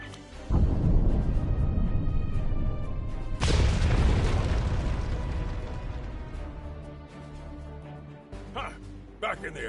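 A loud deep boom from an explosion in Star Trek Online on PlayStation 5, an initial blast followed by a second heavy burst that rumbles and slowly fades, with voices and effects near the end.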